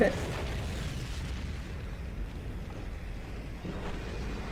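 A rocket is fired and explodes in a Skibidi Toilet fan-made animation. A sharp burst at the start gives way to a loud, sustained rumbling roar that runs throughout.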